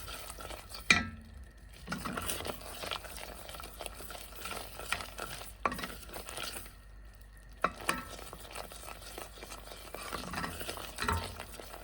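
Butter melting in a pan for caramel, stirred with soft scraping and a low, steady sizzle throughout, broken by a few brief quiet gaps and a sharp clink near the start.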